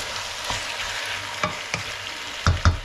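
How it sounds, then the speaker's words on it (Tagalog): Turkey caldereta stirred in a hot pan, a brief stretch of sizzling with a few spoon scrapes that grow louder near the end, close and without talk. "Haluin mabuti."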